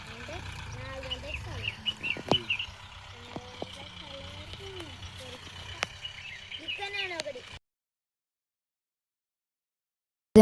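Small birds chirp and call near a farm well beside paddy fields, with short tweets scattered through the first half under nearby voices. The sound then cuts to near silence.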